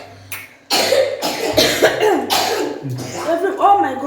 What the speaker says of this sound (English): one of us is coughing.